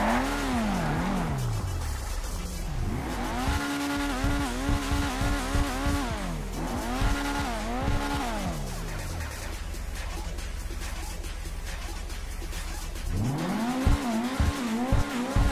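The Pfister 811 supercar in GTA 5 Online accelerates hard again and again, its engine pitch climbing and falling with each rapid gear change. Tire squeal and skidding break in now and then, and no one speaks.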